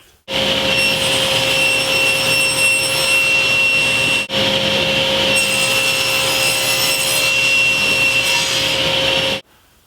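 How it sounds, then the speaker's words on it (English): Half-inch MDF is crosscut on a table saw with a loud, steady whine and rushing cutting noise. The sound lasts about nine seconds, dips briefly midway and then cuts off abruptly. "I've marked off 17 inches here, and I'm going to cross cut that to the same length."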